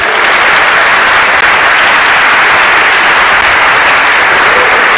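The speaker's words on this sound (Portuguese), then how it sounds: "Vamos dar um aplauso a Jesus" A church congregation applauds during worship, a loud, dense and steady roar of clapping that fills the space without pause.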